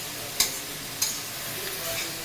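Radish greens fry in a pan with a soft, steady sizzle, broken by two sharp clicks of a utensil against the pan as they are stirred.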